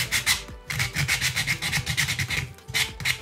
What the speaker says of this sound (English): And it's sanding it really evenly.